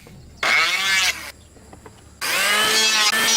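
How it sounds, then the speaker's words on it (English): Timber being cut for a log cabin roof support with a power saw, in two loud, close bursts of harsh cutting separated by a quieter pause. No one speaks. "She cuts the timber that will form the roof support."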